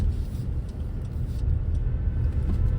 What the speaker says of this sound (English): This is what the traffic looks like here.